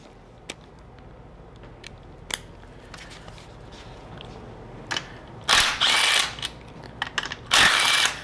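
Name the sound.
socket wrench removing transfer case bolts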